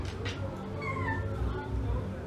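A house cat meows in a home shared with two cats and a dog, giving a couple of short mewing calls under steady background noise and soft talk.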